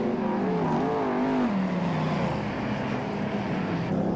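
Formula 1 stock cars race at Belle Vue, Kirkmanshulme Lane, Manchester, in 1999: a loud, continuous engine roar whose pitch climbs and then drops away as cars pass close by.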